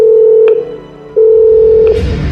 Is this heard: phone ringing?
yes